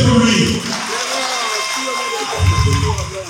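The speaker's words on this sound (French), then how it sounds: "Applaudissez pour lui." At an opposition party political rally, a crowd applauds and cheers, a broad wash of clapping with shouting voices mixed in and a loud amplified voice or music underneath, fairly close and full.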